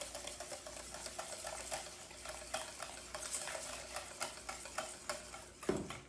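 A spoon or whisk stirs waffle batter with vanilla extract in a bowl, making a quiet, rhythmic wet slapping and scraping that repeats steadily and ends in a sharper knock.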